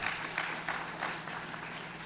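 A crowd at an evening Asian American and Pacific Islander Heritage Month celebration gives a brief, moderately loud round of applause, a steady patter of clapping with a few sharper claps.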